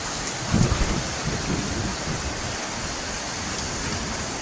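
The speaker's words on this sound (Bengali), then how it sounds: "আকাশ কেমন ডাকছে। আকাশ পুরো লাল হয়ে গেছে। প্রচন্ড ঝড় বৃষ্টি হচ্ছে" A heavy thunderstorm with pouring rain gives a dense, steady hiss. A short, deep thunder rumble comes near the start and then the rain roar continues evenly.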